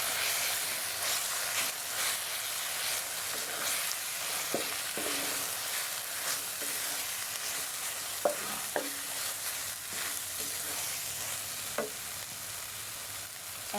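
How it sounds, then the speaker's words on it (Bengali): Chicken pieces coated with ground spices fry noisily as they are stirred, a dense sizzling hiss with sharp scraping clinks of the spoon against the pan repeating throughout. "গুঁড়ো মশলা দেওয়ার পরও আমি ভালোভাবে নেড়েচেড়ে মিশিয়ে নেব"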